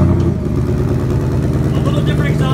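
A 700 hp Roush Ford Mustang 5.0 rumbles loudly and deeply at close range, its exhaust revving and holding a throaty growl throughout.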